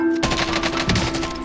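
Stoner machine gun fire in Warzone, a rapid burst of rounds that runs for about a second and a half, loud and close, with no talk over it.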